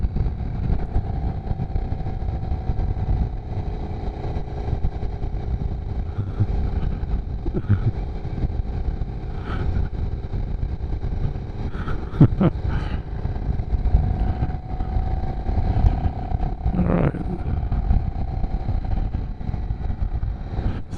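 A motorcycle engine hums steadily while riding through Mount Rainier National Park, a low continuous drone with a few brief clicks and shifts in tone.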